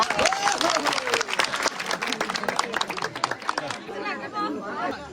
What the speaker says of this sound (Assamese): মই সকলোকে এটা হাত তালি বজাবলৈ অনুৰোধ কৰিছোঁ